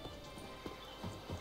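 Horse hooves clip-clopping at a run while riding in The Witcher 3 video game, a quick rhythmic series of soft thuds over steady background ambience.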